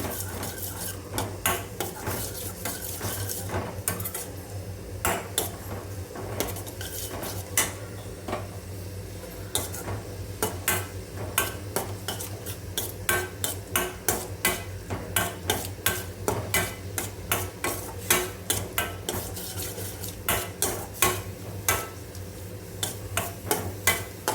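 A spoon scrapes and knocks rhythmically against a metal pan, mixing ginger garlic paste into tomato rice. The clatter repeats steadily and grows busier over a low background hum, with no talking.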